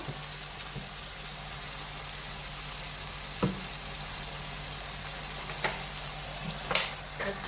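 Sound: mustard chicken sizzling in oil

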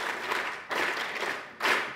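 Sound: audience clapping

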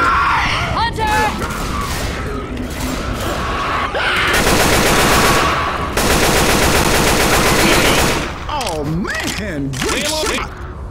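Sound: gunfire in Left 4 Dead 2 video game

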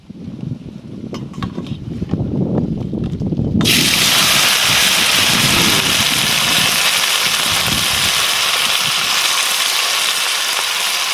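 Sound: wind blowing outdoors

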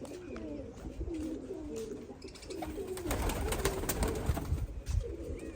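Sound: pigeons cooing

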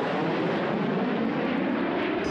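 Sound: airplane engine during aerobatic air show flight

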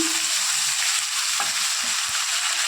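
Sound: onion, ginger and garlic paste frying in hot oil in a wok

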